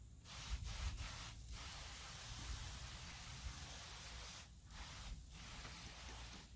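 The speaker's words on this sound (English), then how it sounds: "I'm gonna go ahead and spritz the ribs" A spray bottle spritzes smoked beef ribs on a Labor Day barbecue smoker, giving a steady close hiss broken by a few brief pauses, with no talking.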